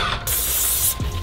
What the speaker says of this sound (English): Just give it a bit of a spray, and then that way it releases the pressure